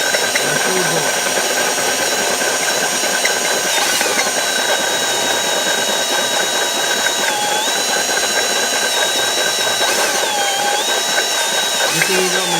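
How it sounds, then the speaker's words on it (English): A power drill whines steadily for several seconds, its pitch dipping briefly now and then as it bites into material while drilling a hole for a lawn aerator, loud and close. "now we're drilling a final hole for our tube hole"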